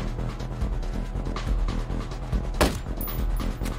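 Rifle fire in Ghost Recon Breakpoint, repeated shots over a dense game mix of rumble and effects, with one sharp, loud crack standing out near the end.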